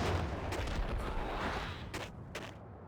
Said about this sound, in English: They're throwing grenades now.